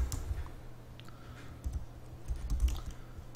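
Computer keyboard keys tapped in quick, uneven bursts while a LINQ join query is written, soft and close, with faint clicks and no talking.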